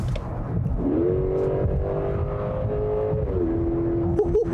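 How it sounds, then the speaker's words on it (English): A 2020 Genesis G90's 5.0-litre naturally aspirated V8 revs up sharply, holds a steady high drone for a couple of seconds, then drops back and blips again, loud and close. "a naturally aspirated, so non-boosted or supercharged 8-cylinder, which allows you to do things like this."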